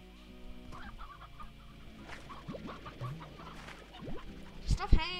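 Chickens cluck softly in the background over a quiet game soundtrack, with a few sharper squawks rising near the end.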